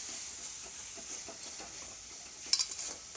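Masala with turmeric and coarse coriander frying in a pan for an Odia-style fish and potato curry gives a soft, faint sizzle with light stirring scrapes and a short clink of utensil toward the end.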